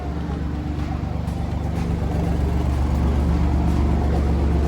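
A steady, loud engine drone from an Alfa Romeo Giulia QV, holding a continuous rumble that swells slightly partway through, heard close with no talking.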